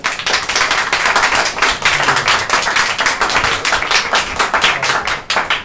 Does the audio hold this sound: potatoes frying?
no